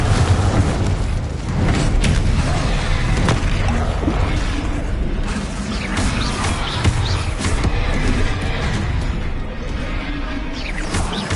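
Booming spell explosions from Confringo and Incendio blasts in the Hogwarts Legacy video game, continuous loud rumbling crashes and bursts layered with fiery roar, dense and sustained throughout.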